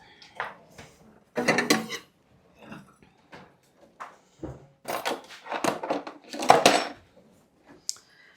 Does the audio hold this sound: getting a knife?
yes